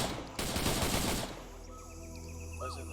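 Rapid automatic gunfire in a Vietnam war game, a loud burst of close shots rattling for about a second before cutting off, leaving a quieter ambient hum with faint chirping.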